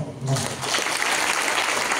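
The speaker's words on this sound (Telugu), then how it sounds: "మీకోసం గ్రేట్ రౌండ్ ఆఫ్ అప్లాజ్" An audience bursts into applause, a dense wash of many hands clapping that swells quickly and holds steady and loud.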